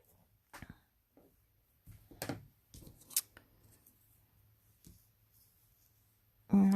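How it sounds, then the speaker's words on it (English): Small scissors snip linen thread ends on a paper craft card, several soft, close clicks spaced irregularly, with a louder thump at the very end. "Trim our little linen thread ends here."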